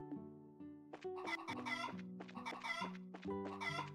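Chickens cluck in Legend of Heroes: Trails in the Sky, a few short bursts of clucking over a steady game music backdrop.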